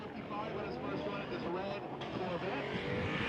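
A red Corvette drift car making 340 wheel horsepower at a drift competition qualifying run: a loud, continuous engine roar with shifting pitch, with a commentator talking over it.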